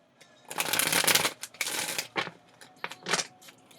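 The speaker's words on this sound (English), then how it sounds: "let me shuffle, and then I'll pull the rest of these cards to clarify" Tarot cards riffle and shuffle in several quick bursts, close and crisp, with short pauses between shuffles and no talking.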